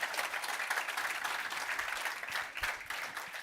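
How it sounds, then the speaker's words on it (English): An audience at an international AI summit claps in sustained, steady applause that fills the room, dense and even from start to finish. "A round of applause"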